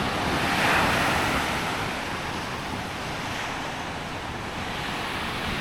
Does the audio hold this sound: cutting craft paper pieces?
no